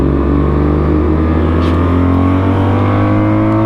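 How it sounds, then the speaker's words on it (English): Steady, loud engine drone of a BMW R1200 RT-P police motorcycle's boxer twin, a deep continuous rumble with strong low harmonics running throughout without break. "Just feel that torque from that boxer twin engine."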